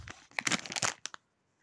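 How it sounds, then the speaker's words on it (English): Plastic blind bag of Big Hero 6 Baymax figures being torn and crinkled open by hand, a burst of close crackling rustles that stops abruptly, followed by quiet. "let's open her up."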